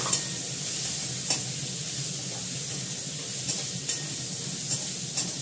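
Onion frying in a little mustard oil in a pan, with a bay leaf added, gives a steady close sizzle and hiss broken by a few sharp stirring clicks. No one speaks.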